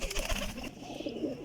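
A pigeon coos at close range, soft throaty warbling repeated across the moment, with no voices.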